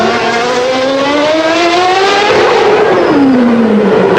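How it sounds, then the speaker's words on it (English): A 1994 Formula 1 car, a Benetton, at the Monaco Grand Prix, screaming loud and close as its engine pitch climbs through a gear, then drops and climbs again while it passes. "Down the hill comes Michael Schumacher, past the intersection with the Boulevard de l'Arvoto"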